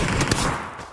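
A quick burst of gunfire in the battle royale shooter PUBG, several fast shots that fade within a second.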